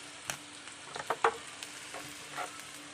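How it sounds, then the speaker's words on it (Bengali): Vegetables frying in a pan give off a faint, steady sizzle. A few brief scrapes and clinks of stirring stand out around the middle. "এই যে সবজি তো ভালো করে ভাজা হয়ে গেল"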